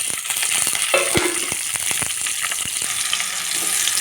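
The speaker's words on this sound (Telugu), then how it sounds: "ముందుగా ఆయిల్ వేసుకొని పచ్చిమిర్చి వేసుకున్నామండి" Green chillies fry in hot oil for an ivy gourd chutney, giving a close, steady sizzle with scattered sharp pops and crackles and occasional stirring scrapes, with no talking.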